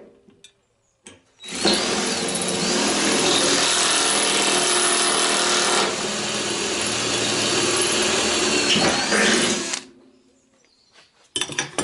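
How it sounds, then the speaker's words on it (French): A power drill re-drilling holes through a reinforcement plate on a removed car front wing, a loud continuous close whine and grind lasting about eight seconds, with a brief dip midway before stopping; quiet handling noises before and after. "Donc je vais repercer les trous jusqu'à de l'autre côté, puisque j'ai mis le renfort"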